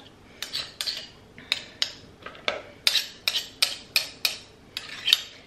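A run of light metallic clinks and scrapes, about a dozen quick taps of a spoon scooping peanut butter from a jar, close and fairly loud.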